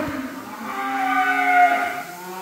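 Limousin Cross cattle moo in one long, steady call lasting about two seconds, loud and close, with no voices over it.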